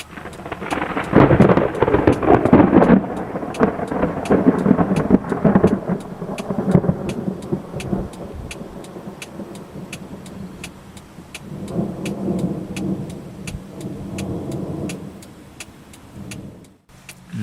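Thunder from a storm anvil during a Florida summer storm: loud, deep rolling rumbles at first fade out, then another quieter rumble builds later, with rain in the background.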